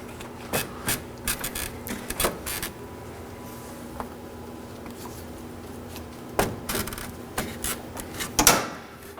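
Front bumper of a Nissan Sentra, 2013–2019 generation, being pulled upward, bringing plastic creaks, clicks and scraping rattles in clustered bursts with quiet gaps between, close and moderately loud, no voices.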